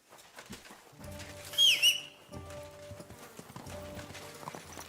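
A horse whinnies briefly over steady hoof clip-clops and a soft musical drone in the video game Kingdom Come: Deliverance 2, the hooves moving at an even walking pace.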